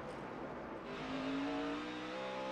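Juan Montoya's NASCAR Sprint Cup car pulls off pit road at Pocono in 2010, its engine note rising in pitch as it accelerates. The sound is faint and somewhat distant, with no voices over it.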